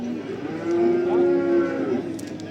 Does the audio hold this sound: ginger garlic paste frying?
no